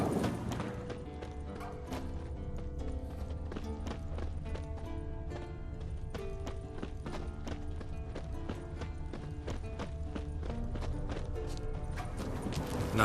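Horse hooves clip-clop steadily in The Witcher 3 at Kaer Morhen, the mount a purebred Kedwenny warhorse, a continuous rhythmic patter mixed under game music and ambience without pause.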